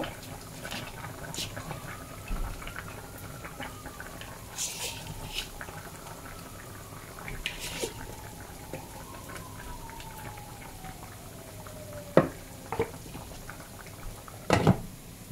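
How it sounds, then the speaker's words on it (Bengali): A pot of leafy greens comes up to a boil on the stove, ready for fried rohu fish, giving soft, low bubbling with a few scattered clinks and taps. "এই তো বলক চলে আসছে, এখন আমি মাছগুলো দিয়ে দিব।"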